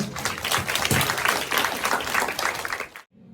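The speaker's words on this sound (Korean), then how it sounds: "큰 박수로 환영할게요" A church congregation applauds loudly for about three seconds, a dense burst of clapping that stops abruptly.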